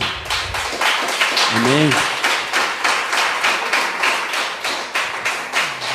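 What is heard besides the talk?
church congregation applauding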